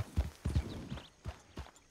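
Horse hooves clip-clop at a walk in the Western video game Red Dead Redemption, a few soft, uneven thuds on the ground, faint and close.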